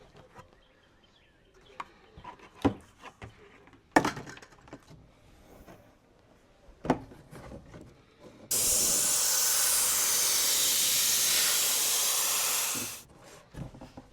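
A spray can or paint gun hisses in one long steady burst of about four seconds onto a large RC car body, the Primal Raminator, after scattered handling clicks and knocks in a quiet workshop.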